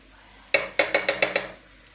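Spices stirred into kalya vatana bhaji in a pan, a run of six sharp, close clinks and scrapes of a spoon against the pan in quick succession, then quiet.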